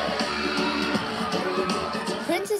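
Festive crowd at a Polynesian pride night event, a dense roar of cheering and shouting voices with whoops rising near the end, continuous and fairly loud throughout.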